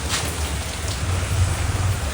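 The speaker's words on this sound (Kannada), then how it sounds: "ಮಳೆ ಇದು ತಣ್ಣಗೆ ಹೊಡಿತಾ ಇದೆ." Cool rain falls steadily in a dense, even hiss, close and fairly loud, with low rumbling underneath and no voices.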